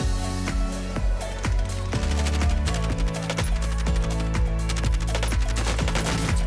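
Rapid machine-gun fire rattles continuously in an online shooter game, dense overlapping bursts and individual shots stacking up loud and close with no pauses.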